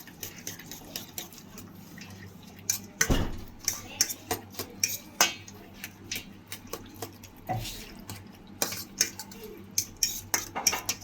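A spoon stirring and mixing a mixture in a bowl, close and clear, with irregular clinks and scrapes of metal against the bowl over a quiet background and occasional louder knocks.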